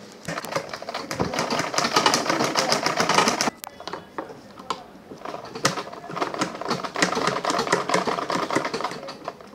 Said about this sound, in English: I'm going to sew them on the machine.